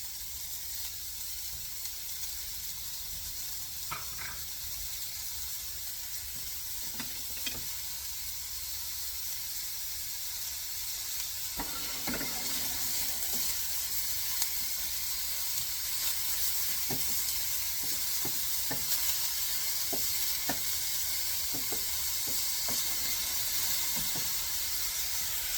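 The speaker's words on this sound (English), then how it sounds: "we're going to put the onions in here" Onions sizzling steadily in a hot pan, a broad continuous hiss that swells slightly partway through, with sporadic clicks and taps of stirring throughout and no talk.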